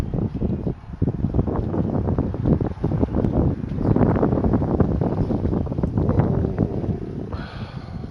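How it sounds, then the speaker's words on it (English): Strong crosswind whipping through open windows into a bedroom, a loud continuous rushing and buffeting roar that gusts in waves, with no one speaking. "the wind is whipping so hard that you just hear it whipping into my room"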